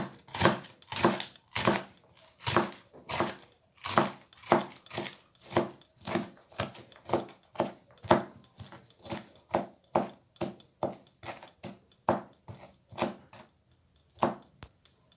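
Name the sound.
slicing pepper with a knife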